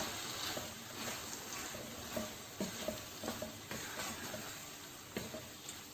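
Keema with garam masala and yogurt is stirred in a pan over a gentle sizzle, with repeated soft scraping strokes and clicks of the spoon. The sound is faint and close.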